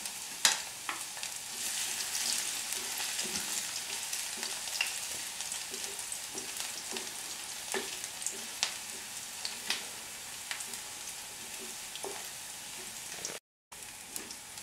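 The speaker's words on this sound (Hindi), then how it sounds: "Ginger chopped, 1 tablespoon garlic chopped और इसको हम थोड़ा सा स्टर फ्राई करेंगे।" Chopped ginger and garlic stir-frying in a pan for mustard greens, a steady soft sizzle with scattered crackles and light stirring clicks throughout, no voices.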